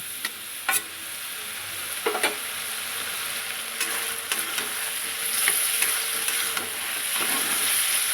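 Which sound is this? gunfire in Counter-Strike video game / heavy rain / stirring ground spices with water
stirring ground spices with water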